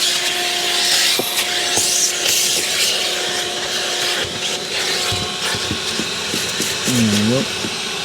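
A vacuum cleaner runs steadily inside a Mercedes E55 car interior, a loud continuous whooshing hiss with clicks and rattles of debris and screws being sucked up, and a brief voice near the end.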